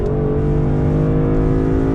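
A 2021 Lexus LC 500 engine roars at high revs up to 7,000 RPM, a loud sustained drone that stays close and constant, with no voices.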